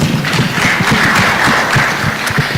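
Audience applause at a national exhibition event, a steady wash of clapping from a crowd, moderately loud and continuous throughout, with scattered individual claps standing out.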